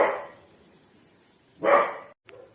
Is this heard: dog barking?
yes